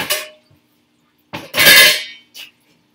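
Frying pans clatter and clang as they fall from a kitchen cabinet, in a few short bursts, the loudest crash in the middle, with quiet gaps between them.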